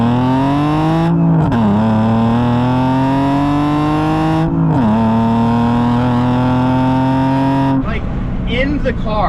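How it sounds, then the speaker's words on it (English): A BMW E46 wagon with a custom exhaust pulls hard through several gears, each rising engine note cut by a brief dip at the shift. The sound is loud and close, with the engine dominating throughout. "I'm going to give you guys some good acceleration here because I think this sounds really good."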